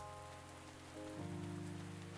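Rain in the video game Pumpkin Days, a soft, even patter of drops on surfaces under a quiet sustained background tone, faint and continuous for a couple of seconds without speech.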